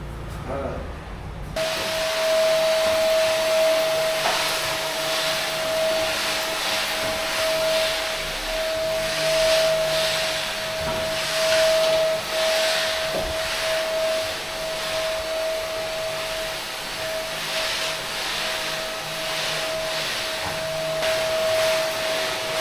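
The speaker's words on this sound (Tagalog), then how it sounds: "Ngayon alam ko na kung bakit mas gusto ng iba yung vacuum" A household vacuum cleaner runs continuously throughout, cleaning floors around a kitchen table, with a steady whine and rushing airflow hiss that stays loud and close from start to finish.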